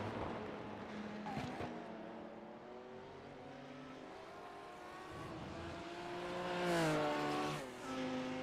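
A race car lapping a circuit in a sim racing game, its engine note rising and falling through gear changes and corners, fairly quiet and steady, with a louder surge near the end and no voices.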